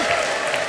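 A church congregation claps and ululates in praise, producing a dense, steady wash of applause and crowd noise that holds level through the short moment.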